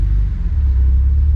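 Inside a manual BMW M3 E46 Convertible on the road, a loud, steady low engine rumble drones throughout with no voices, holding an even level for the short stretch.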